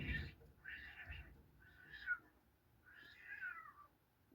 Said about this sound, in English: We have an outside cat named Panther, and usually she fights with a lot of cats